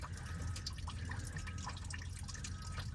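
Coolant draining from a 2004 Ford F350 6.0 diesel engine, a steady trickle with dripping over a constant low rumble in a work area, heard alone.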